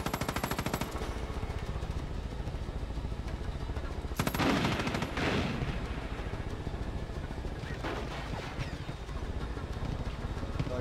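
Gunfire in Far Cry 5, a steady rattling stream of rapid automatic shots at moderate loudness, with a heavier blast in the middle and a low engine-like rumble running underneath.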